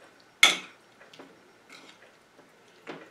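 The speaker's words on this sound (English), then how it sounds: "I'm going to stir this all together." Spoon stirring a cucumber and tomato salad in a bowl, one sharp clink followed by several soft, scattered scrapes and taps, close and quiet.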